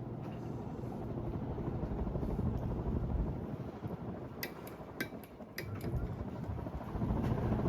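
A 56-inch 1935 Emerson Roundnose ceiling fan turns at medium speed, about 185 RPM, giving a steady rhythmic whooshing hum with a few light ticks near the middle and no talking.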